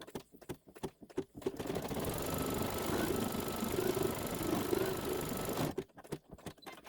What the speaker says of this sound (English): Now we're going to do the placement stitch for the top section.